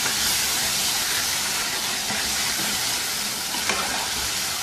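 Tomatoes cooking in a chicken karahi stirred with a spoon, a loud continuous hiss and sizzle with steady scraping close by.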